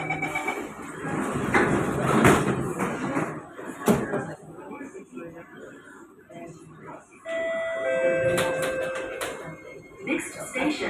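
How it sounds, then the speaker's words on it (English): An SMRT North-South Line C151B train sounds its door-closing chime, a run of clear sustained electronic tones near the end. Before the chime there is cabin rumble with spoken announcements. "Doors are closing."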